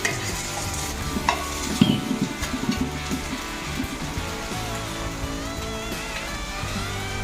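Gyadar fish, a 2 kg catch, simmers in a tomato and green chilli masala for fish chilli, giving a steady close sizzle with stirring scrapes throughout, no voices over it.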